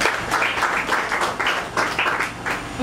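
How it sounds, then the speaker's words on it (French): Audience applause at a political gathering on gender parity, a steady patter of many hands clapping at moderate level for about three seconds, with faint voices underneath. "Est-ce qu'on peut applaudir?"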